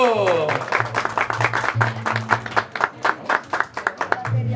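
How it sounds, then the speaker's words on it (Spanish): Audience applauding a mariachi band at a birthday celebration, a burst of claps settling into a brisk rhythmic clapping pattern, close and lively, with a low sustained musical tone underneath. "Y ese aplauso bien bonito."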